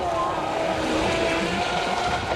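Twin Speed 900 electric motors powering an RC model of the ocean-going tugboat Abeille Languedoc, run on 6 volts at a model boat show, give a steady continuous whine with a faint tonal hum, amid background voices and crowd noise.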